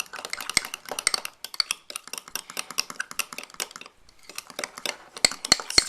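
A utensil rapidly stirring mug cake batter in a mug, with steady, dense clinking and scraping strokes against the sides, close and continuous with one brief pause midway.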